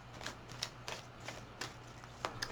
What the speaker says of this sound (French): je vais prendre les cartes